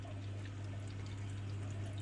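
Water flows and splashes steadily from a homemade aquarium filter, a constant close gurgling rush over a low electrical hum, with no pauses or voices.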